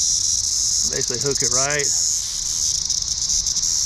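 A cicada held as fishing bait buzzes with a loud, continuous high-pitched drone, close by, while someone speaks briefly over it.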